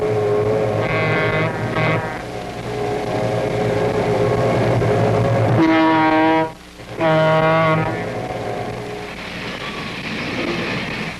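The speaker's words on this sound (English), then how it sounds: "After the train starts rolling, more power is gradually applied, building the train up to the desired speed." A Minneapolis & St. Louis Railway freight train pulls away and builds speed, its diesel engines droning loudly with steady harmonic tones and a brief dip in the roar partway through.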